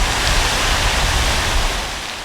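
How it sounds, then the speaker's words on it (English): A large downtown fountain in summer sends a loud, steady, broadband rush of splashing water that fills the scene without a break and fades slightly at the end. "This enormous fountain downtown shouts the pleasure of summer"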